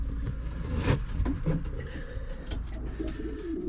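Racing pigeon in a breeding loft: soft repeated low cooing calls close by, over a constant rumbling room noise with scattered clicks and shuffles.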